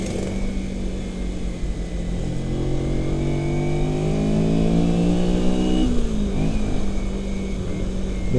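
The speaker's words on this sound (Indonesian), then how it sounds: "Ini motor kalau dikasih pelan nggak mau, dia maunya kenceng dulu." Motorcycles riding in a touring group on a weekend trip near Bandung, engines droning and rising in pitch as one accelerates past close by, steady road noise underneath.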